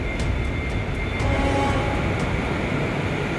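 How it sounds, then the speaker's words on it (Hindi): A train arriving at Stockholm station from Gothenburg: a steady, loud rumbling roar with a faint high whine and a few light metallic ticks, heard alone. "ये योतेबोरे से ट्रेन आई है"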